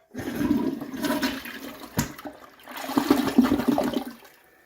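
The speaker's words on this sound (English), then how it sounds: "And then here's the big flush." A house toilet gives a big flush, a close, rushing surge of water that dips briefly midway and then swells again before draining away, with no voices.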